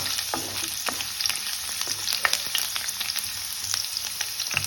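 Garlic and ginger frying in a pan for chicken fried rice, giving a steady crackling sizzle with frequent small pops and sputters and no talk.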